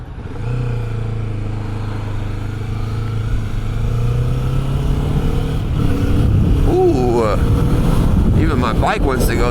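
A motorcycle engine idles loud and close, a steady low drone, at the start of a morning road ride. Its pitch then climbs and wavers through several revs and shifts as the bike pulls away, with wind buffeting near the end.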